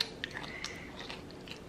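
A pet crunches on T-bone food nearby, a quiet run of irregular crisp bites and chewing that repeats through the short stretch without any talk.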